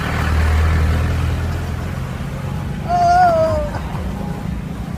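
Road traffic on state highway SH-28, a steady low engine hum with a brief high tonal squeal or horn-like note partway through, fairly close.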